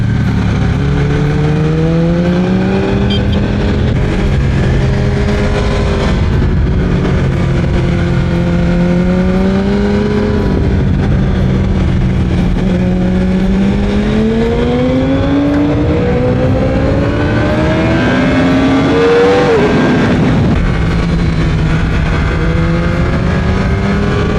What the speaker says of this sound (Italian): Ma quanto è bella l'R1 in curva!